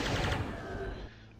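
Rapid chaingun fire rattles continuously through a dense, loud burst of game noise in classic DOOM, the Hellmouth mod's Dismal Palace map, fading out after about a second.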